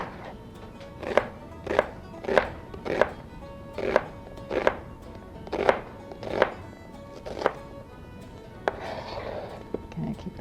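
A knife cuts through Vidalia onions on a board, landing about a dozen evenly spaced thunks at a steady rhythm, close and fairly loud.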